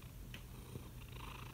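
Soft, steady purring from a house cat, faint and continuous, with no voices present.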